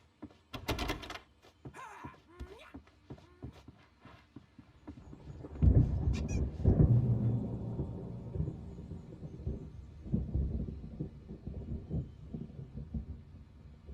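Thunderstorm in the video game Alan Wake: scattered sharp cracks and thuds come first, then a heavy rolling rumble builds and swells in waves, moderately loud and with no talk over it.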